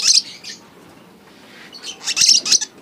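A lovebird chick gives bursts of high, shrill chirps, several quick calls at the start and a louder cluster near the end, close by and with no talk.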